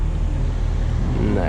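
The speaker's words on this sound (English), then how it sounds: "Here comes a Corvette C6." A Chevrolet Corvette C6 drives past on a busy Miami street, its engine a loud, steady rumble with a rising pitch near the end as it nears, heard over ongoing traffic and some background voices.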